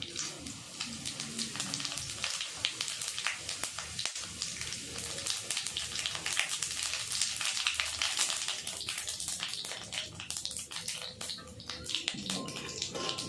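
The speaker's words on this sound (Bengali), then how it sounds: "ওই একই তেলে অল্প চিনি দিয়ে দেবো চিনিটা কালার আসার জন্যে তেজপাতা আর গোটা গরম মশলা" Sugar, bay leaves and whole garam masala fry in hot oil while preparing mutton curry with potatoes, giving a steady dense sizzle with crackling taps throughout, close and continuous.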